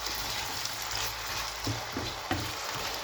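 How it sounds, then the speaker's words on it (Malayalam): Raw plantain pieces sautéing in oil after mustard seeds, a constant close sizzle with a few soft scraping stirs near the end, no talking. "ആ കായ അതിലേക്കൊന്നിടാം ഒന്ന് വഴറ്റി ഒന്ന് ജസ്റ്റ് ആ എണ്ണയിലൊന്ന് വഴറ്റണം"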